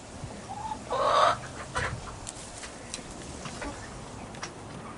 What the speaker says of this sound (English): I think they're all roosters in here.